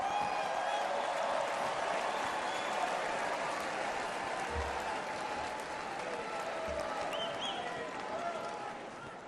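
A large Republican National Convention crowd applauds Speaker Mike Johnson, a long sustained wash of clapping and cheering heard from within the arena, fading slightly at the end.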